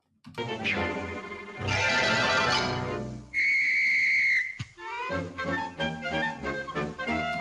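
A cartoon whistle from a 1949 Tex Avery short blows loud and shrill in one sustained held note, set among bursts of brassy orchestral music and sharp comic hits before and after.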